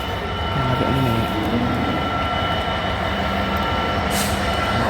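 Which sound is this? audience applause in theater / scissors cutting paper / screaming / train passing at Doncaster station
train passing at Doncaster station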